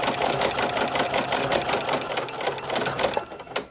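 A Baby Lock sewing machine fitted with a ruffling foot stitches continuously at close range, a fast, loud rhythmic clatter that runs the whole time and tapers off at the end, with no talk.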